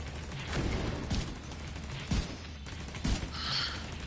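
Gunfire from Tom Clancy's The Division 2 sounds as a few quiet, scattered shots and short bursts over a low, steady game background, fairly faint overall.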